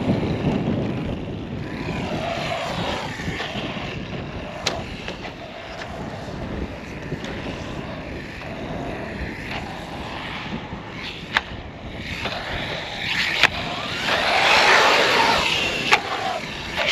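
An ARRMA GROM RC car with a brushed stock setup whines at full throttle on a jump track, a continuous buzzing electric motor drone with wind rush and a few sharp knocks, swelling louder near the end.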